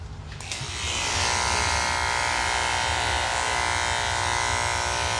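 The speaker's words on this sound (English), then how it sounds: "let's get back into the shaving on her head." Electric clippers shave the head of a Miniature Schnauzer during grooming, a steady close buzzing hum that switches on after a brief moment and runs continuously and loud without a break.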